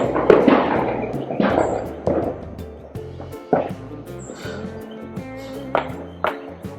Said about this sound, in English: Can you hear the sound of firecrackers?